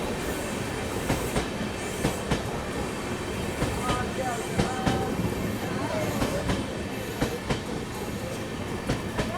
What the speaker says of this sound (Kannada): ಇದು ನಮ್ಮ ತಿಪ್ಟೂರಲ್ಲಿ ಕ್ರಾಸಿಂಗ್ ಆಗ್ತಿದೆ ತಾಲ್ಗುಪ್ಪ ಸೂಪರ್ ಫಾಸ್ಟ್ ಎಕ್ಸ್ಪ್ರೆಸ್ ಜೊತೆ.